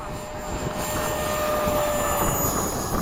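A BAE Hawk jet roars steadily on its takeoff run, a loud, sustained broadband engine rush with a faint whine, rising slightly over three seconds with no talk.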